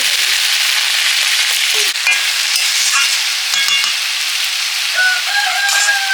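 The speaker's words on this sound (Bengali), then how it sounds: "ডাঁটাটা দিয়ে দিলাম কিছু সময় নাড়াচাড়া করে" Vegetable stems are stirred as they fry in a pan, a loud, continuous hiss and sizzle with scraping strokes running throughout, and a few thin higher chirps rising over it near the end.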